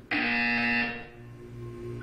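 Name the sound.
buzzer in the Portal 2 video game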